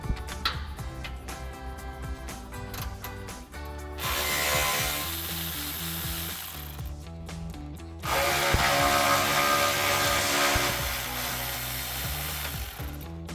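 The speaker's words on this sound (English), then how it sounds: "We're going to use our 10mm socket to remove those." Ratchet with a 10mm socket clicks in quick bursts as exhaust isolator bolts come off a Ford F-150, joined by louder sustained whirring tool noise in two long stretches, close up with no talk.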